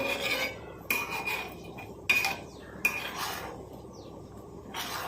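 Metal utensil scraping and clinking against a pot of oil with black cumin seeds in a few separate strokes, close by, with quiet gaps between them and no talking.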